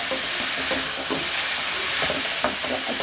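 Kheema minced meat frying in a pan over a low flame, with a constant crackling sizzle broken by a few light stirring clicks and no talking.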